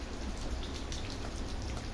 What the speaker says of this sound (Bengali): অঝোর একভাবে বৃষ্টি পড়তেছে।